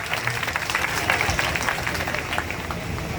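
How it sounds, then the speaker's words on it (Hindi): Audience applause at the closing ceremony of a Bhagirath Atma Shanti Yagya in Jamshedpur, Jharkhand, honoring an editor: steady, dense clapping from a crowd, fairly loud and continuous throughout. "एक बार जोरदार ताली से उनका सम्मान करें।"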